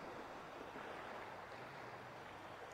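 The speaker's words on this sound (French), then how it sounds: "La mer commence à se calmer, les vagues" Ocean waves wash over the sea in a continuous, soft broadband surge with no distinct breaks, faint and even throughout, with no voices.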